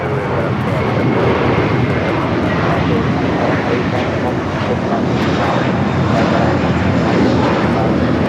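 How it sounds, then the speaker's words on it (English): A Delta Boeing 767-400ER jet airliner crossing a runway at LAX, a loud, steady broadband engine roar that holds evenly close by, with a voice speaking over it. "The Delta 767 400 ER now crossing over 25 at right"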